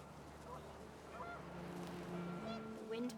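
Geese honk in short nasal calls over a low steady background in the video game What Remains of Edith Finch, several birds calling close together as wind picks up.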